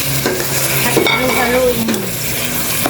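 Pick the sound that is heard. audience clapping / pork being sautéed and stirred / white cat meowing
pork being sautéed and stirred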